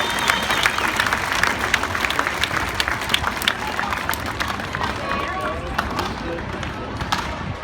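Spectators at a tree felling handicap event in Sydney cheer and clap under an announcer's voice, with a lively crowd murmur and sharp knocking sounds scattered throughout.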